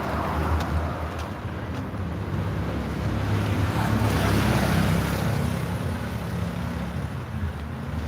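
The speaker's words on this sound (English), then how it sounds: "Down here is where the river passes." Broad steady rushing of river water passing beneath a bridge in a city, heard continuously with wind buffeting the microphone and no talk.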